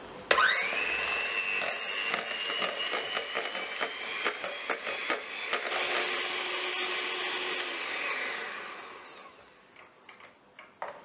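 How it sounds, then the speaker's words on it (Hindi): An electric hand beater with freezer-chilled attachments whips cold cream for homemade mango ice cream, a steady loud motor whine running about eight seconds before tapering off into quieter clatter. "इसको हम बीट करना स्टार्ट करेंगे।"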